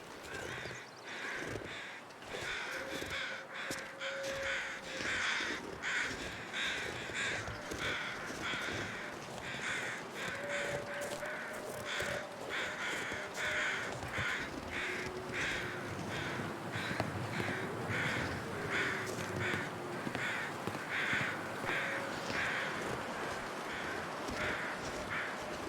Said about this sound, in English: There's a lot of crows around here.